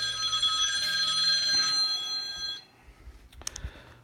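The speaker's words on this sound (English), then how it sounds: "my phone's ringing here" A mobile phone rings in a shop with a 1951 Ford F1 truck, a bright repeating electronic trill that cuts off abruptly, followed by a few soft handling clicks.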